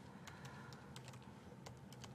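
Quick keystrokes on a computer keyboard while setting up Windows Phone 8, light irregular clicks in short bursts, faint and close with no talk.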